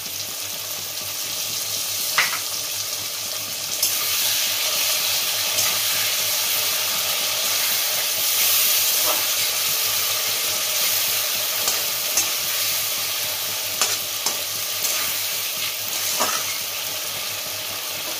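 Paste of white mustard, poppy seed and green chilli sizzling steadily in a hot pan for Bengali hilsa in mustard gravy, a constant bright hiss with a few faint stirring clicks and no talking.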